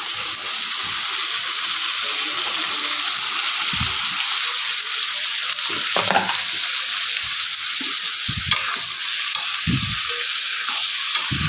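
Mixed vegetables sauté in hot oil with turmeric and salt, giving a steady close sizzle with occasional scraping and stirring knocks from the pan throughout, with no talking.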